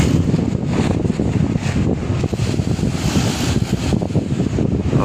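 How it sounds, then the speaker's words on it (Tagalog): Strong wind sweeping across a seaside promenade, roaring steadily and buffeting the microphone with low gusts, loud and continuous with no voices. "Masarap ng hangin dito."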